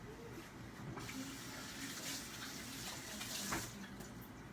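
Running tap water pours steadily over fresh cilantro in a kitchen sink, a continuous splashing wash that holds for several seconds without speech.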